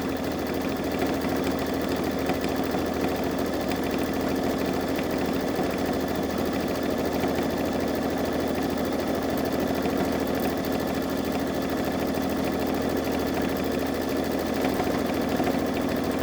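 Babylock Solaris embroidery machine stitching a monogram over a blanket stitch, a steady fast mechanical hum and rattle running continuously at moderate level.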